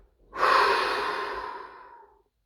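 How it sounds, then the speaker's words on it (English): A single deep breath taken slowly through the mouth, a close, soft airy rush that swells quickly and then tapers off over about two seconds in a quiet room. "So deep breath"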